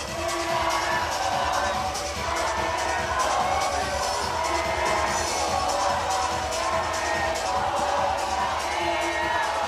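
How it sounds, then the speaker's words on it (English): A large crowd at an indoor rowing race cheers and yells without pause, a dense, loud wall of voices and whoops filling the arena. "The fans are yelling that loud."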